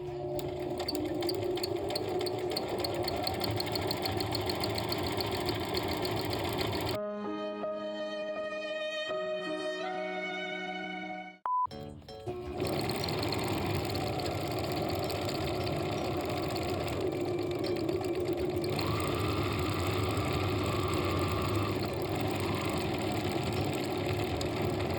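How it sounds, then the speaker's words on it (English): A dry sewing machine in need of oil runs steadily through free-motion embroidery on keychain plushies, loud and close with a strained mechanical whir, pausing briefly midway before resuming at full speed. "my sewing machine was kind of screaming for help."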